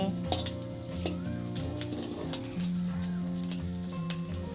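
Steady frying sizzle from a hot iron pan grilling chilies, with occasional soft scraping and clinks, fairly close and continuous, no voices.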